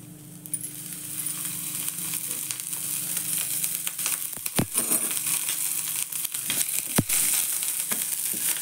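Onion sizzling in about two spoons of hot oil in a pan for a matar paneer masala, a steady broadband fry with a few sharp clinks of a utensil against the pan.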